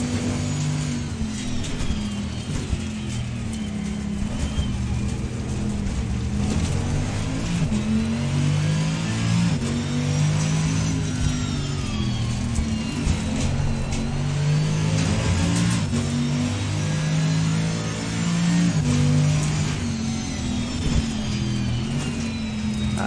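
Mercedes GT3 race car engine in Assetto Corsa Competizione, heard from the cockpit, revving loudly and steadily with rising and falling pitch through gear changes, no talking.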